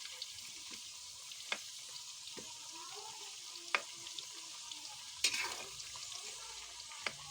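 Sweet potatoes fry in hot oil with a quiet, continuous sizzling hiss, broken by occasional sharper pops and crackles close by.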